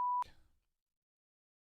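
A single short, pure censor bleep tone at the very start of a wrestling talk show, cut off abruptly and followed by near silence.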